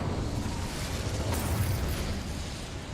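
A fire spell being cast in Hogwarts Legacy, heard as a steady, dense roaring whoosh of flame that holds for about three seconds with a slight swell in the middle.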